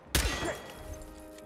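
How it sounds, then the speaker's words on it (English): In the game Hitman: World of Assassination, a bullet strikes with one sudden loud smack and crunch, followed by a brief ringing, rattling tail as it fades. "They heard a bullet impact."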